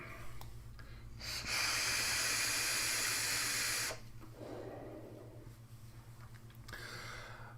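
Air rushing through an open-airflow Sense Herakles Plus vape tank: a loud, steady breathy hiss for a couple of seconds, then a quieter draw and another faint pull at the end.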